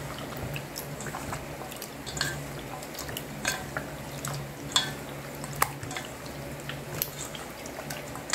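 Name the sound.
stirring dish in pan after adding cornstarch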